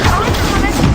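A Stupefy spell is cast in the Hogwarts Legacy video game: a dense, loud blast of magical combat noise with low thuds and a possible shouted incantation, lasting about a second.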